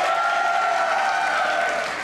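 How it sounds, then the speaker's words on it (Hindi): Studio audience applause on a Pakistani comedy talk show, a full, continuous patter of clapping from a large crowd with faint cheers mixed in, staying loud and steady. "प्लीज, मेरे लिए तालियां बजा दें।"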